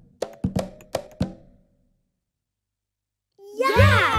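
Four sharp drum-like hits from maracas in quick succession, then silence, followed by a voice speaking.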